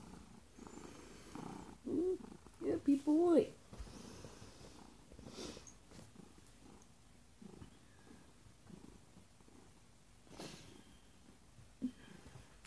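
A cat purrs close up in a soft, continuous rumble, with a few snorty breaths. A person speaks briefly and affectionately over it.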